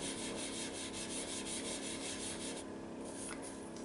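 A Stampin' Up sponge, cut from a big round sponge, is rubbed to blend ink onto a Christmas card, making a steady soft scrubbing that fills the whole stretch with no talk.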